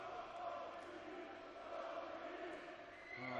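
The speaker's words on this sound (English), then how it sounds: "Oh, the crowd trying to urge him over the line." Darts crowd at the Belgian Darts Championship giving a sustained, distant-sounding roar of cheering and chanting, steady and fairly faint, swelling slightly toward the end.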